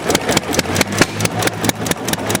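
An old hit-and-miss engine thuds through its firing cycle while driving an 1890s lathe, its loud rhythmic pulses repeating about every quarter second over a steady mechanical clatter.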